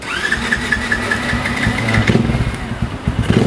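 An RXF 150 Freeride motorcycle engine is turned over by its electric starter with a whirring crank, then settles into a close, chugging idle with a rough, uneven rumble.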